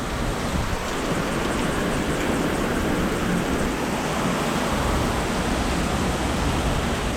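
Heavy rain from a passing storm drums steadily on a car at a dealership, a dense, unbroken roar of water with no break, loud and close, with no voices.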